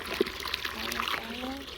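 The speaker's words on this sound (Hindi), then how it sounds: "खोलो खोलो वाल खोलो, आ गया पानी आ गया माशाल्लाह। तो बाल्टी भरे" Water pours from an opened valve into a bucket, a soft splashing trickle beneath excited voices talking close by.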